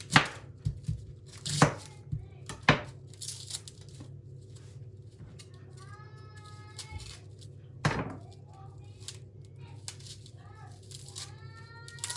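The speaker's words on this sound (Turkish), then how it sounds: "Şimdi soğanı doğruyoruz" Several sharp knife chops through an onion on a cutting board come in short bursts, with quiet pauses and a few soft high-pitched chirps in between.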